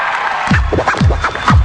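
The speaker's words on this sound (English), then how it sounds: "Ladies and gentlemen, I think women deserve a round of applause." A comedy-show audience cheers and whoops in loud, overlapping bursts of shouting, with rising and falling crowd yells rather than steady clapping, filling the short moment.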